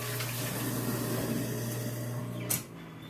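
Water runs steadily from a kitchen sink faucet into a basin during dishwashing, a constant close rushing hiss with a low hum beneath, ending in a brief splash as the flow is cut.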